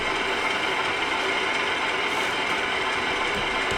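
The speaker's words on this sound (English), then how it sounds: "once the engine starts, it kicks into idle" Steady idle of a diesel locomotive engine from a LokSound V5 model railway sound decoder, a continuous low rumble with even mechanical texture and no variation throughout.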